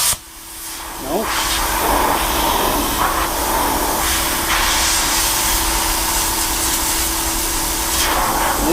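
A 55 amp 120/240V IGBT plasma cutter blows a steady, loud hiss of air from its torch without striking an arc, continuous after a short start, with someone speaking briefly over it.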